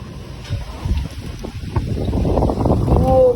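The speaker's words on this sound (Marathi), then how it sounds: "किती हवा येते" Strong wind gusts against the microphone by a window with a view, a rough, buffeting roar that builds over a few seconds, with faint voices and a brief tonal whistle near the end.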